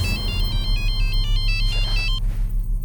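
An incoming call on a phone plays a melodic electronic ringtone of quick repeating beeps for about two seconds over a steady low hum, with no talking.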